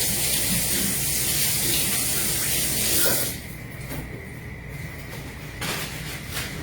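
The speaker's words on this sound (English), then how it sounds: "Wash my hands off really quick." Hands are washed under a running kitchen tap, a loud steady gush of water for about three seconds that cuts off abruptly, leaving a quieter room with faint splashes and clatter.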